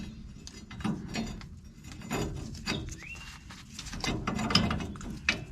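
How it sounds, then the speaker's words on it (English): A ratchet torques nuts on a Hellwig EZ-990 helper spring bracket fitted to the rear axle of a 1989 Chevy K1500. Close, rapid clicking ratchet strokes come in short bursts over a background of outdoor ambience and faint bird chirps. "These nuts get torqued to 81 foot-pounds."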